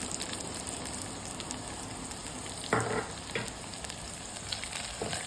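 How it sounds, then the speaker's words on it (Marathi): Asafoetida and turmeric tipped into golden garlic frying in oil, a steady close sizzle with a brief louder burst as the spices hit the pan, then a few scraping stirs; no talk. "तर हिंग हळद टाकूया"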